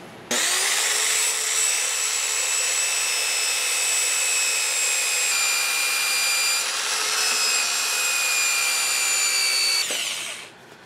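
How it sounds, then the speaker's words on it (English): A power tool sanding the inside of a cherry wood bowl, a loud steady high-pitched whine running about ten seconds alone, starting and stopping abruptly. "I'm going to try something different, and that is to sand them down."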